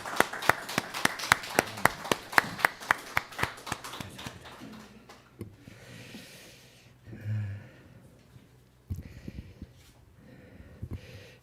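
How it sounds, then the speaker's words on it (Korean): A church congregation applauding, a run of sharp, rhythmic claps at first, then thinning into scattered, softer clapping with quiet breathy room noise and occasional taps. "우리 강태훈 형제에게 박수하면서 감사의 마음을 전합니다"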